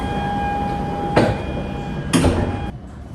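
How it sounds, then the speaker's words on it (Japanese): Doors of a Joetsu Shinkansen Tanigawa train close at a station: a steady tone rings, then two sharp hissing, sliding door bursts about a second apart, close by, before the sound settles. "列車の追い越し待ちはないので即座に扉が閉まります。"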